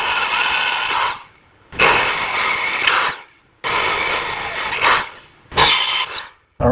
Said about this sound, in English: I need a hole right there. And I'm just going to do that with a drill